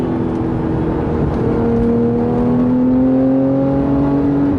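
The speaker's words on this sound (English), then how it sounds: "It's definitely interesting to hear the engine way in the back." A 2014 Porsche 911 GT3 with its engine mounted at the rear revs while driving, a loud continuous engine drone that climbs steadily in pitch under constant road noise, heard from inside the car without any talk.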